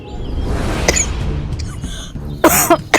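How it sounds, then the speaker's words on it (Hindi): Several harsh coughs, a couple of smaller ones then a loud close burst of two or three coughs near the end, over a low background murmur. "फिर से खांसी उड़ गई।"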